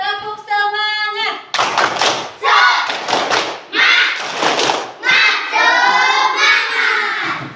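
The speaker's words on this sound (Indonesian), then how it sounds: "Sekali lagi. Tepuk semangat." Group of children doing the rhythmic 'tepuk semangat' spirit clap in a classroom, several bursts of loud hand claps and thumps mixed with children's voices chanting along.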